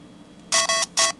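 A custom ringtone plays on a Motorola MotoROKR phone, two loud bright bursts of electronic tone, the first longer and the second shorter, close by after a quiet start.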